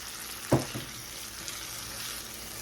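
Tomatoes and onions frying in olive oil, a steady soft sizzle with a brief clatter of a utensil stirring near the start, no voices.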